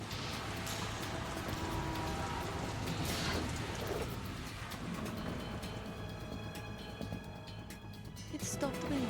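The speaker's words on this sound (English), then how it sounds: "It stopped raining." Steady broadband rain wash in Metal Gear Solid 2, a dense continuous hiss that fills the whole stretch at a fairly constant level, with faint game sounds mixed underneath.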